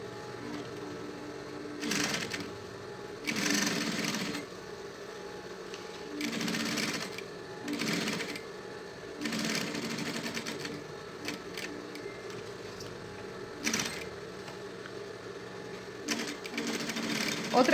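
Straight-stitch sewing machine sewing synthetic leather for a pencil case, running in repeated bursts of a few seconds each with short pauses between, close and clear with a steady mechanical whir.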